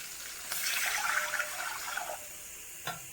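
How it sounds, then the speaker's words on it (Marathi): Water pours steadily into a cooking pot for dal rice, a continuous rushing splash for about a second and a half that tapers off, followed later by a brief faint splash. "पाणी टाकूयात आपण."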